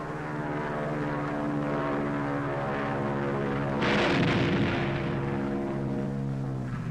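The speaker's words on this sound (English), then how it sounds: "the pilot shoots his bombs into the target and takes evasive action" Propeller-driven military aircraft roaring loudly and steadily as it dives on a dummy target during a wartime 1944 bombing practice run, with a brief surge of rushing noise midway and no speech.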